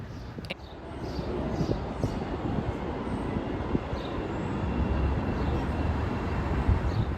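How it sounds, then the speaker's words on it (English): A CTA Pink Line train pulls into a Chicago station platform, a steady broadband rumble and rattle that swells gradually and holds without pause, with no voices. "Look, here comes the train now."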